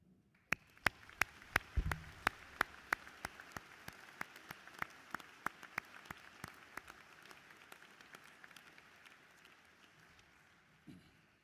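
An audience at a Brown County High School Veterans Day program applauds for veterans, a thin scattering of hand claps with some sharp individual claps, fading toward the end, at a moderate distance.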